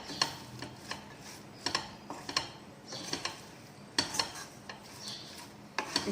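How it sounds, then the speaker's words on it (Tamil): Cabbage curry with masala stirred in a pan, a spoon scraping and clinking against the metal in irregular strokes, quiet and close with short sharp taps between softer scrapes. "நல்லா கிளறி விட்டு"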